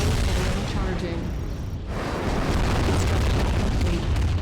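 An ion cannon blast in Command & Conquer: Tiberium Dawn, a dense, sustained roaring rumble with a brief dip before swelling again, loud and close.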